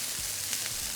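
Chopped carne asada sizzling in a skillet, a steady close hiss of frying meat with a couple of soft stirring touches.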